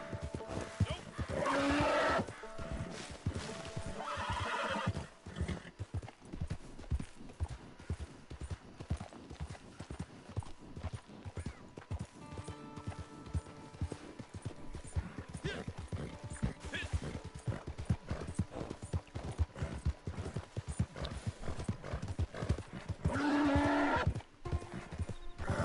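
A horse in Red Dead Redemption 2 gives repeated clip-clop hoofbeats on the move, with a couple of loud neighs near the start and the end, and someone talks at intervals over it.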